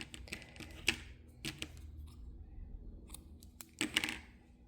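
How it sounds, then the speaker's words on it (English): Scissors snip through gray or white yarn after crocheting a baby cardigan, a few sharp close clicks and taps spread across a quiet room with no talking. "chain 1, and cut your yarn"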